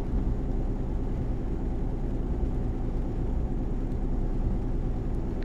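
A truck engine in the Euro Truck Simulator 2 video game hums as a steady, low continuous drone at constant revs, with no talk over it.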